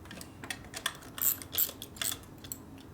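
A wrench clicks and ratchets in short bursts while top-end bolts are tightened in a cross pattern on a Harley-Davidson Evolution stroker engine, faint and close with a few sharper metallic ticks.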